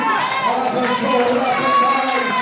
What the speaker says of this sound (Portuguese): dá um grito de júbilo ao Senhor e aplauda a Deus nessa noite